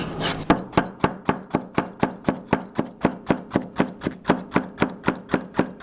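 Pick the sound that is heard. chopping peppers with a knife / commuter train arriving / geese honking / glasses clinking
chopping peppers with a knife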